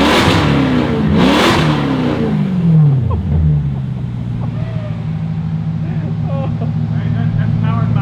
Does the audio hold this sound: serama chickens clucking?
no